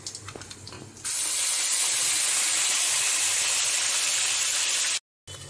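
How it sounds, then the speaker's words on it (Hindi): A ginger, garlic, onion, tomato and green chili paste hits hot oil and sizzles loudly and steadily in a pan for several seconds, with a brief break near the end. "सब चीज़ को अच्छे से भून लेते हैं।"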